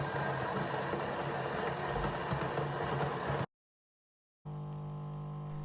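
A DeLonghi Dinamica ECAM 350.55.B coffee machine brews a medium-strength cup, its motor and pump droning steadily, cutting out for about a second, then resuming.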